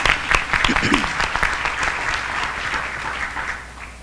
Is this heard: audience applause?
yes